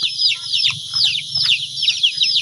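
Chickens on a Philippine farm cluck and squawk in rapid overlapping bursts as they are caught to be moved into netted coops, with a low rumble of activity underneath.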